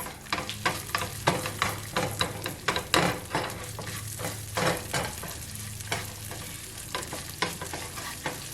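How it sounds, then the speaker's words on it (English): Chopped pumpkin seeds cook on low heat in a pan while being stirred, giving a soft steady sizzle broken by repeated scraping strokes of a utensil, close and moderately quiet, with no voices. "chopped pumpkin seeds. And you want to cook them for like 1 to 2 minutes"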